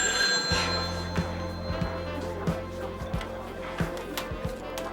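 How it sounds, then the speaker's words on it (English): A telephone rings with repeated short electronic trills in a bar called the Huddle, moderately loud over a busy background of room noise and faint voices. "Gary, there's someone on the phone asking for Peter"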